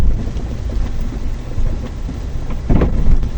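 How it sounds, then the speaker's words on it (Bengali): Heavy rain pouring close by with low rumbling thunder, a dense steady wash with a louder burst near the end, no talk. "না আমি আজকে বৃষ্টিতে ভিজছি"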